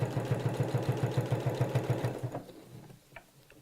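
A sewing machine stitches around piping cord with a quick, even mechanical chatter for about two seconds, then slows and stops, leaving faint handling clicks.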